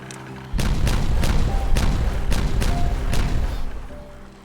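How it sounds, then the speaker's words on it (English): A rapid series of heavy, booming explosions in the video game Timberborn, about half a dozen in quick succession, loud and punchy, then fading out. "I'm sure they've changed the sound of those explosions. They sound meatier."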